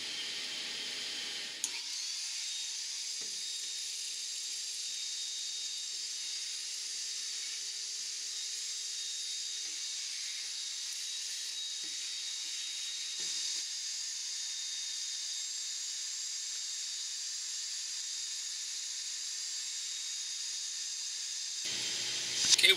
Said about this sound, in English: Now I'm just going to use my ash vacuum to get everything I can out of here.